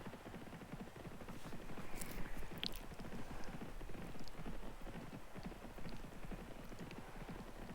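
Racehorses gallop off the start in Starters Orders 7, a horse racing game: a steady, fast drumming of many hooves fills the whole stretch, loud and continuous, with no talk over it.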